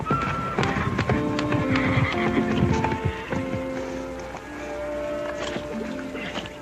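A horse in a Western setting clip-clops along in a steady hoof rhythm and lets out several loud whinnies, close and clear, with faint background noise.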